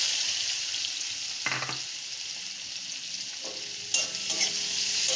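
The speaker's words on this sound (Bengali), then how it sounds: "পেঁয়াজটাও আমি লাল লাল করে ভেজে নেব।" Chopped onion fries in hot oil with five-spice in a pan, a steady bright sizzle running throughout, broken by a few scraping stirs from a spatula; no one speaks.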